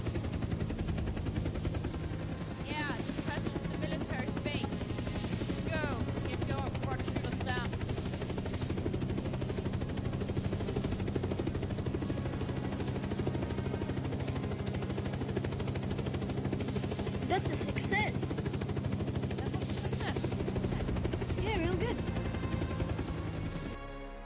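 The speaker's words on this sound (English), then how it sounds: "There's an army helicopter there," An army helicopter flies in the video game Unturned, its rotor drone steady and continuous, with intermittent gunfire-like bursts and voices talking over it.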